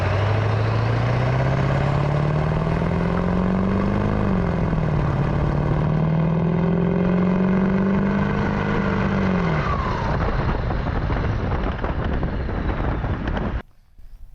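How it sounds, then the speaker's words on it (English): Truck exhaust on an OBS Ford, a deep steady rumble that holds loud and constant with slight pitch rises and dips, running alone before cutting off abruptly near the end. "The exhaust actually sounds pretty decent right now."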